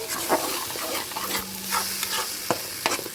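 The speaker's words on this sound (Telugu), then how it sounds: "వేసేసి కాసేపు పచ్చివాసన పోయేదాకా వేయించుకోవాలి" Spice paste fries in a pan to cook off its raw smell, giving a soft continuous sizzle with intermittent spatula scrapes and taps against the pan, close and without speech.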